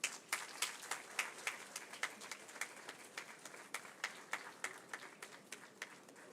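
Audience applause at a school convention ceremony: a steady run of sparse, distinct claps from a modest crowd, fairly faint and without talk over it.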